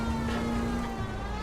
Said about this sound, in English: If you use the siren